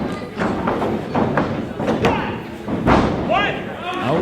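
A running knee strike lands in a professional wrestling match, a heavy thud that rises over continuous arena crowd noise and commentary, with a few other thumps spread through the moment.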